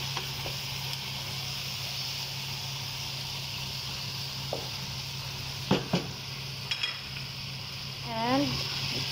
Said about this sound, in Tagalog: Halo-haloin na natin ng ganito,